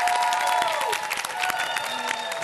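Audience applause in a television show studio, a dense, loud wash of clapping with some cheering from the crowd, steady throughout under faint background music.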